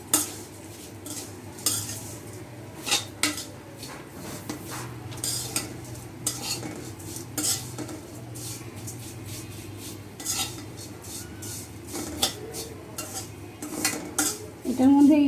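Semai vermicelli is stirred in a frying pan: a spatula scrapes and clinks against the metal again and again over a low, continuous sizzle.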